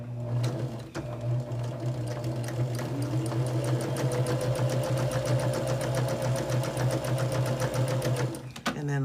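A sewing machine stitching a quilt block runs steadily in a close, continuous mechanical hum with a fast, even needle clatter, then stops abruptly near the end.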